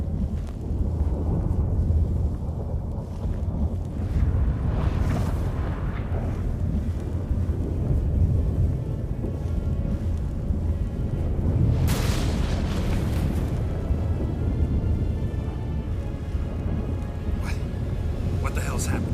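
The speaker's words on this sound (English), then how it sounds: "That a storm?" In The Witcher 3, a storm rolls in as a continuous deep rumbling roar with wind, swelling into heavier thunderous booms around the middle, while voices speak over it.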